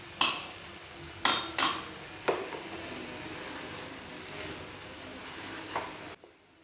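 A spoon scraping and stirring coconut laddu mixture in a pan, a few sharp clinks near the start and then a soft continuous sizzling scrape, close and fairly quiet.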